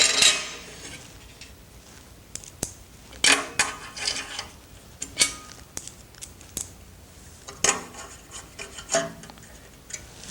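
Light scraping, rubbing and small metallic clicks as cap screws are removed and a table insert is locked into place on a Shopsmith Mark V Model 510, a series of short close-up handling noises with quiet gaps between them.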